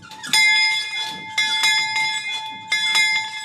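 A bell on a vintage train at a forest heritage site is rung in three bright, ringing strikes about a second and a half apart, each clang sustaining and decaying before the next.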